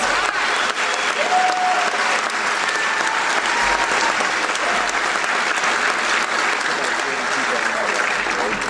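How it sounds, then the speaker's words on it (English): An audience applauds at a commencement ceremony with dense, sustained clapping at an even loudness from start to finish, filling the hall without pause. "Let's give them a round of applause."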